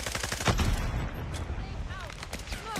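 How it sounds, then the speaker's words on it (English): Rapid automatic gunfire trading back and forth in a Call of Duty Mobile esports match, bursts of crackling shots under a caster's fast commentary, fairly loud and continuous. "exchange of bullets"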